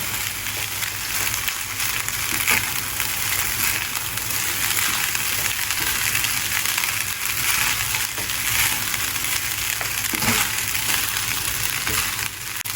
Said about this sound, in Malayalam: ഇനി ഇതിലേക്ക് വേവിച്ച് വെച്ചിട്ടുള്ള ചോറ് ഇട്ട് കൊടുക്കാം. നന്നായിട്ട് മിക്സ് ചെയ്തെടുക്കുക, യോജിപ്പിച്ചെടുക്കുക.